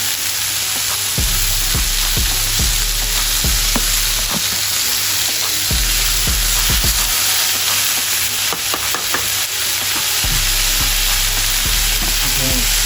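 Garlic and chili butter sizzles loudly and continuously around prawns in a pan over low heat, with occasional stirring taps throughout.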